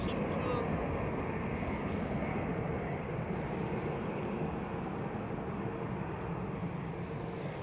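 A British Airways airliner taking off for London Heathrow from Edinburgh Airport, a distant, continuous low jet rumble that holds steady and fairly faint throughout.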